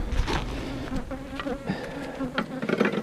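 Aggressive honeybees swarm an opened nuc hive, their buzzing close and loud, surging and fluctuating as individual bees whip past the listener.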